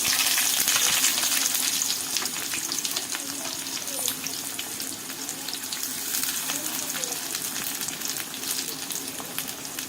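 Small onions and curry leaves sauté in hot oil for a village-style fish curry, giving a continuous dense sizzle and crackle close by with faint scraping, and no speech.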